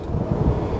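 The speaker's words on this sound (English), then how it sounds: "It's really windy." Strong wind on a snowy rock climbing crag at North Table, a short burst of loud, rough rumbling buffeting against the microphone without speech.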